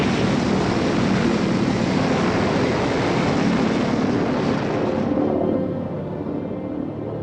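A German V-1 buzz bomb, an early subsonic pulse-jet cruise missile from 1944, flies past with a continuous loud droning roar that holds steady and then recedes and fades over the last couple of seconds.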